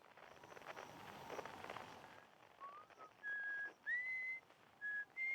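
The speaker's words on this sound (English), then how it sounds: "someone's whistling on the moon" Faint whistled notes drift in after a stretch of soft hiss in the Outer Wilds game, a few sustained tones at different pitches, separated by brief pauses, sounding distant on a moon.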